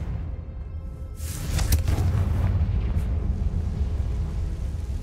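A Confringo blasting spell explodes in Hogwarts Legacy, a sudden booming burst followed by a rumbling, crackling tail that fades over a few seconds, heard alone.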